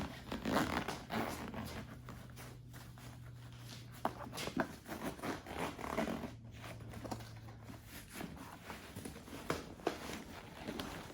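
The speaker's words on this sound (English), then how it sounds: "you're gonna fish around for a lot of zippers here." Repeated quick zipper pulls on a motorcycle tank bag on a 2023 KTM 390 Adventure rasp close by amid soft rustling and handling of fabric, with occasional clicks and a low hum underneath.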